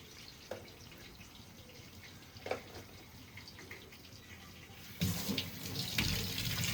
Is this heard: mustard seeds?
no